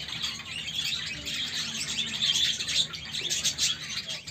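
Caged pet birds, such as budgerigars and quails kept for sale, chirp and tweet continuously in quick, overlapping calls at a modest distance, with no talking.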